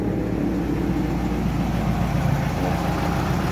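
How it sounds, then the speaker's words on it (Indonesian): A Toyota Starlet engine idles cold just after starting, a steady low rumble holding even and close throughout with no talking over it. "Oke, kita hidupkan dulu mesinnya bosku."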